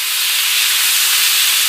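Beef with its juices hisses loudly in a very hot pan, a steady, even broadband sizzle with no pauses and no voices.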